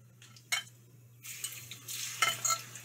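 Plantain slices drop into hot oil: a brief clatter, then a bright hissing sizzle that swells and crackles steadily at close range, with no talking.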